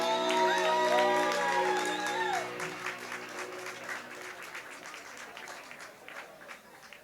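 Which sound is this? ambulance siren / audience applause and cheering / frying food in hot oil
audience applause and cheering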